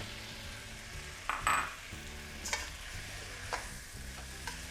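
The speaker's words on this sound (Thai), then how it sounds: "แล้วก็ผัดให้ทุกอย่างมัน เข้ากันนั่นเองนะครับ" Rice being stir-fried in a pan with a splash of water, a steady sizzle broken by several spatula scrapes and metallic clinks against the pan, close by.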